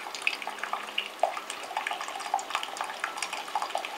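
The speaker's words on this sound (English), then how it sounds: "So you've got very, very, very high pressured water there that's dribbling through your jewellery." High-pressure, very hot water sprays and dribbles through body jewellery during cleaning, giving a steady splashing hiss broken by small irregular spatters close by.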